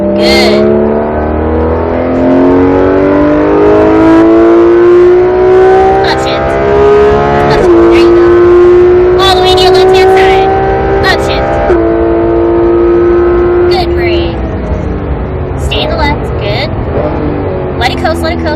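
A Porsche GT3 RS on a race track builds revs with a loud, rising engine note that climbs through gear changes. An instructor talks over the engine throughout.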